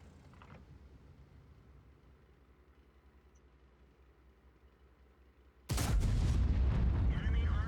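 A sudden, loud FV4005 II tank gun blast in a World of Tanks–style video game bursts in after several seconds of low engine rumble, then rolls on as a sustained, heavy roar.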